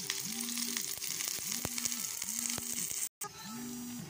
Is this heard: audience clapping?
no